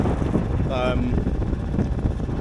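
A sailboat motors under engine power near Kerrera on the way to the Caledonian Canal, producing a steady low drone mixed with blustery wind noise, with a brief voice in the background.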